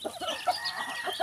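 A fighting rooster kept as a pet gives a few short, nearby clucks and squawks in a quick, uneven burst, with no talking.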